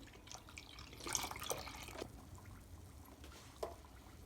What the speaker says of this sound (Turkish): 1 litre sütümü ilave ediyorum